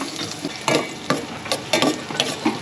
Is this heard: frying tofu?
yes